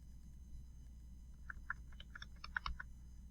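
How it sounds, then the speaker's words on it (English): Cursor keys on a computer keyboard are pressed while nudging text in Illustrator, giving a run of about a dozen light, close clicks, sparse at first and then quicker, over a quiet steady background hum. "I can actually use my cursor keys to move it"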